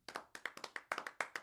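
Hands clap in quick, uneven succession as an applause effect for a guest's entrance. The sharp claps are close and fairly quiet, a dozen or so packed into little more than a second, with no voices.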